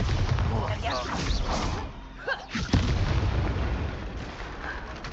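A Bombarda spell explodes in Hogwarts Legacy with a loud, booming blast that rumbles among other spell effects and game sounds, while a voice is heard around it.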